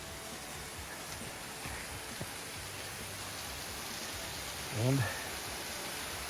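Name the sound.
waterfall after heavy rain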